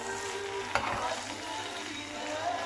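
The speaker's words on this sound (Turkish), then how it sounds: "mantarımı koydum kavurdum" Mushrooms sautéing in a pan and releasing their own water give a steady, close sizzle, with a brief stirring clatter near the start.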